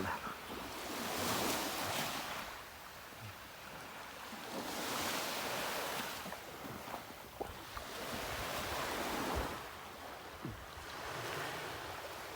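Sea waves wash onto the shore at Tekirdağ Çorlu beaches, swelling and receding in slow surges every few seconds, with steady wind buffeting the microphone and no talking.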